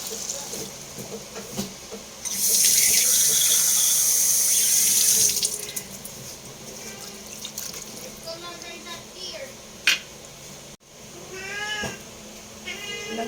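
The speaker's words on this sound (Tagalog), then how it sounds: "Lagay ako konting water." Tap water runs into a cooking pot for a tomato-stewed fish dish, a close, steady splashing stream lasting a few seconds, followed by a cat meowing nearby.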